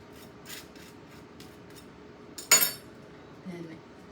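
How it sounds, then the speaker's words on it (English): A knife spreads butter over golden toasted bread with faint, soft scraping strokes, followed by one louder rasping swipe and a light clink of cutlery. "you want to be sure that you get butter all over the bread"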